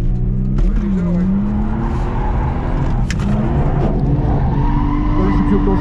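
A drifting car's engine screams at high revs at full throttle while tires squeal and skid through long slides, loud and continuous with brief bursts of wheel noise.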